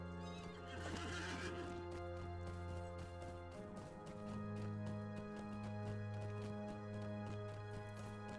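A horse neighs and whinnies in the Lord of the Rings Online video game, with clip-clop hoof steps over a steady bed of sustained in-game music, and no voices over it.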